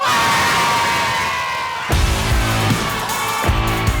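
A rugby crowd in Fiji cheers and shouts loudly, with a sustained roar and bursts of whoops and low thumping through the clip.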